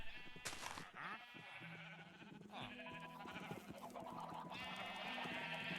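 Minecraft sheep in a pen bleat repeatedly, several overlapping wavering calls following one another steadily and fairly close, with no talking.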